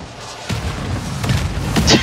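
Explosions and thuds in the Call of Duty: Modern Warfare II beta multiplayer, a few loud booms and impacts spaced across the moment amid game noise.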